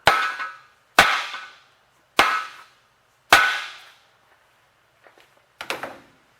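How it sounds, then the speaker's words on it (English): Four sharp, heavy dead blow hammer blows strike metal at roughly one-second intervals while assembling a Chevrolet 292 short block, each ringing briefly, followed by a few lighter clinks and taps. "Let me get a bigger hammer here. Dead blow hammer."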